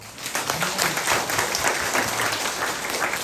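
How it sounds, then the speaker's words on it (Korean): A Catholic congregation applauds inside a church during a Saturday prayer service: dense, steady clapping from many hands that holds at an even, fairly loud level for the whole stretch, with no voice over it. "그거를 여러분이 진정으로 믿는다면 박수를 치세요"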